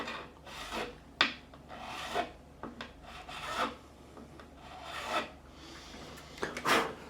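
A metal file rasps along a guitar fret on a PRS SE Bernie Marsden during fret levelling, in a series of close, distinct scraping strokes with short pauses, alone and quiet.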